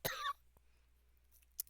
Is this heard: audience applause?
no